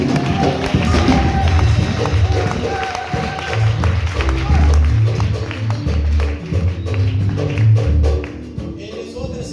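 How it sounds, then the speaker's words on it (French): A congregation at a worship service claps and cheers loudly as a pastor rises, with rhythmic stomping and thumping beneath the crowd noise and voices mixed throughout. "on acclame le Seigneur"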